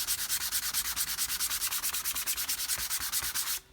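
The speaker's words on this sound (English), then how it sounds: "I'm going to lightly sand it" Light hand sanding of rock maple with a mineral oil finish: a steady, rapid back-and-forth rasp of about twenty even strokes, close and clear with no talk, stopping abruptly near the end.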